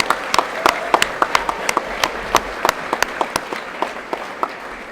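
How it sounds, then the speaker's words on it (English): Applause at a school prize giving, with individual sharp claps standing out over a steady background of clapping across the room. "so a round of applause for him."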